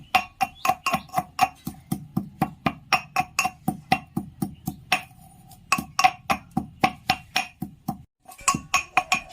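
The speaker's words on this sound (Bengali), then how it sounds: "আমি হামার দিস্তে গুঁড়ো করে নিলাম" Spices are pounded in a metal mortar and pestle with a fast, steady rhythm of ringing clanks, roughly three strikes per second, close and clear. The pounding pauses briefly twice before resuming.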